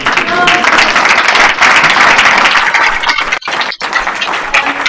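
A crowd at a convention applauds loudly and steadily, the clapping sustained with a couple of brief dips near the end.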